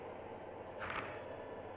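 One sharp camera-shutter snap rings out in the horror video game Fatal Frame, a short bright burst over a steady dull ambient drone.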